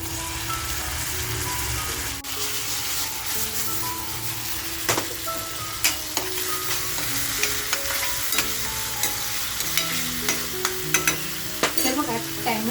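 Chopped tomatoes tipped into lightly browned onions in a hot frying pan, a steady sizzle with stirring scrapes and clinks growing busier toward the end, close and continuous with no talking.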